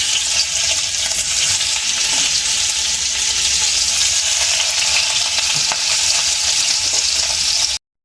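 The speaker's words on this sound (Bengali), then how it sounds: "দেখো পনিরগুলো ভাজা হয়ে গেছে" Paneer cubes fry in hot oil in a pan, giving a loud, continuous crackling sizzle that runs steadily for several seconds with faint stirring clatter and then cuts off abruptly.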